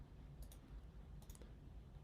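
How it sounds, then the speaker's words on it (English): Computer mouse or keyboard clicks at a desk, a few faint, sharp ticks in two small bursts over quiet room hum, with no voice during the clicks. "Sorry for all the clicking."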